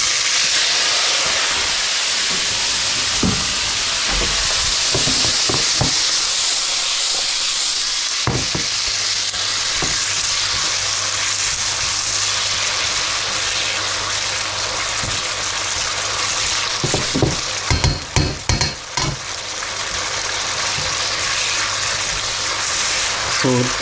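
King prawns and chorizo sizzle and hiss steadily in a pan for fried rice, a constant close frying roar with scattered clinks and stirring knocks, most busy near the end.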